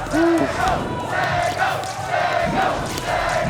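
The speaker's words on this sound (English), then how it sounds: "the crowd going off for Sego" Tournament crowd at a Rivals of Aether event roars and cheers in a sustained, dense wash of voices, with shouted calls rising above the steady noise.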